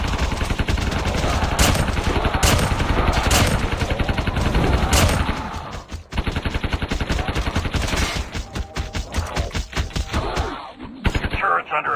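Rapid bursts of automatic gunfire from an auto-aiming turret shooting at creatures in the Undead Siege game, sustained and loud with brief pauses, joined by heavier thuds and game sounds.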